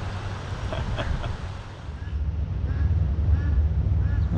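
Ducks quacking along a river in Maggie Valley, North Carolina, a few short scattered calls at moderate distance over steady flowing water and outdoor background noise.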